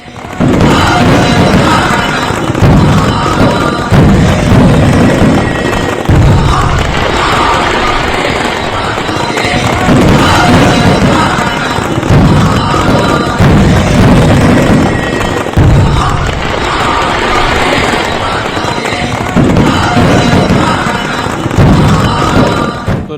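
Diwali fireworks bursting over Kashi Vishwanath in Varanasi, with repeated loud booms and crackling pops at an uneven pace through a steady, noisy roar of celebration.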